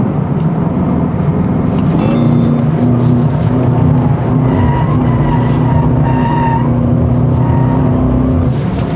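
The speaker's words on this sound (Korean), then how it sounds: "확실히 스포츠 플러스 모드에서는 더 과격하게 코너를 돌아가네요" An Aston Martin DBX707 SUV is driven hard through corners in Sport Plus mode, its tires squealing in repeated sustained bursts over a steady engine drone, heard close with no voices.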